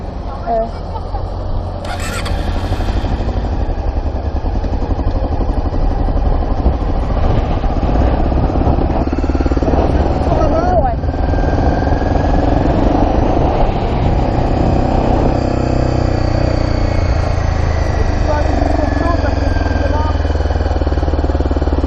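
A motorcycle engine idles and revs gently as the clutch is eased to the friction point, a steady low rumble running under an instructor's voice throughout.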